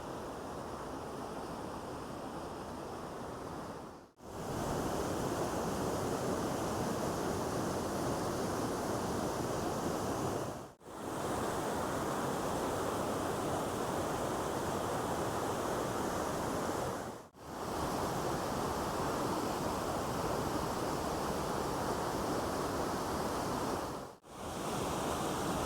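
Rushing water at the top of Eldorado Falls in Walker Ranch Park, a loud, steady broadband roar that continues unbroken apart from brief dips, with no voices.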